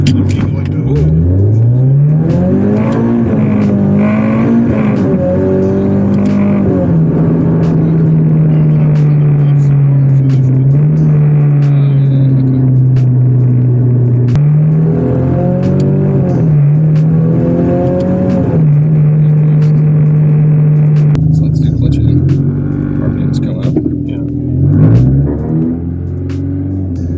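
Turbocharged K24 engine in a Subaru BRZ with an 8HP transmission swap, held on the transmission brake and revved, giving a loud sustained drone that rises and dips across repeated revs, close up and continuous.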